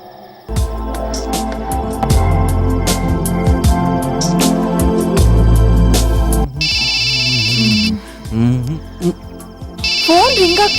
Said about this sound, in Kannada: ಫೋನ್ ರಿಂಗ್ ಆಗ್ತಾ ಇದೆ, ರಿಸೀವ್ ಮಾಡೋ.